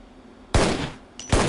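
Shotgun blasts from the video game Shadow Ops: Red Mercury boom in two loud, sharp reports about three-quarters of a second apart, each with a short decaying tail.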